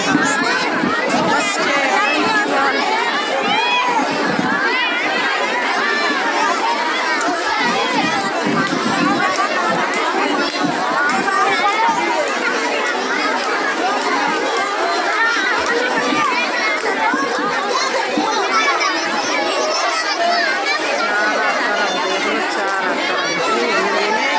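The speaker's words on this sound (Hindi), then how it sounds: "भीड़ के मारे चारों तरफ" A large crowd of children and adults packed together at a school produces a dense, continuous hubbub of overlapping chatter and shouts, close and steady throughout, with voices talking over one another.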